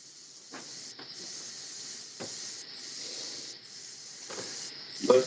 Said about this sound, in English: The steam has to let out,